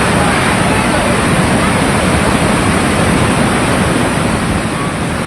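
Swollen monsoon flood water rushing through a river after heavy rain, a loud, constant roaring wash with no breaks, close and broadband like a torrent pouring past.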